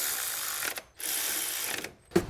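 A hand ratchet snugs down the spark plug coil nuts on a 2007-2013 Acura MDX, giving two bursts of rapid clicking split by a short pause, then a brief final click, close and moderately loud with no talking.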